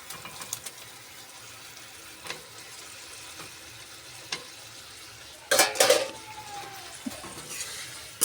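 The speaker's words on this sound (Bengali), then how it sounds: "এবার পনিরগুলো আমি দিয়ে দিচ্ছি।" Paneer pieces drop into a simmering pan of food, giving a short burst of clattering and sizzle midway through, with a quiet bubbling and occasional stirring scrapes before and after.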